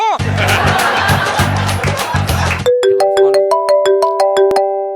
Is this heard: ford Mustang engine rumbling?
no